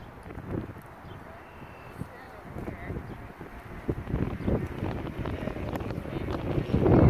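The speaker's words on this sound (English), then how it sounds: "It's very windy." Strong wind buffets the microphone outdoors beside a fishing pond, a continuous rough roar that swells louder toward the end, with a voice briefly heard beneath it.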